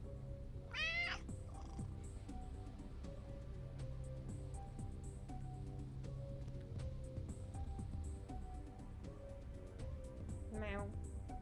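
A cat meows twice, a short rising call near the start and a fainter one near the end, over a steady low hum with background talk.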